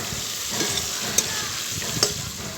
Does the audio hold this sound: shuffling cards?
no